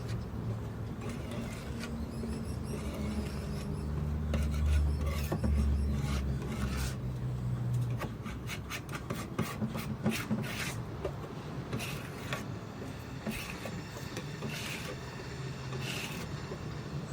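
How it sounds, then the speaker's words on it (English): A scraper drags paint stripper off an old Australian colonial cedar dovetailed trunk, about 150 years old, giving steady close rasping and rubbing strokes in an irregular rhythm, with no talk over it. "You can see the stripper starting to work now, and it's time to scrape it off."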